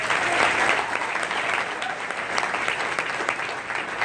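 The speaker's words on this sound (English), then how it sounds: "just give Trish a round of applause" A banquet audience at a retirement dinner claps for Trish, producing continuous, fairly loud applause from a roomful of people that holds steady throughout with no break.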